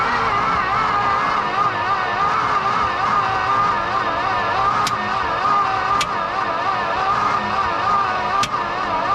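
A 1969 Dodge D-200 Camper Special crew cab's engine runs loudly and steadily close by, with an uneven, wavering idle and a few sharp cracking pops.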